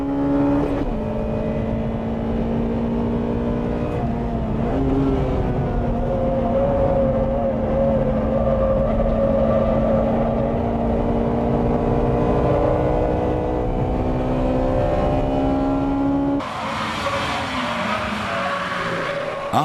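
Race cars at full throttle in a seven-lap race that includes a Mazda RX-7, engines droning loud and steady with rising and falling pitch, then a sudden sharper burst of noise near the end.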